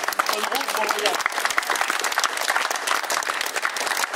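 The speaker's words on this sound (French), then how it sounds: "On peut l'applaudir." An audience at a farewell tribute evening bursts into dense, sustained applause, many hands clapping at once with some voices mixed in.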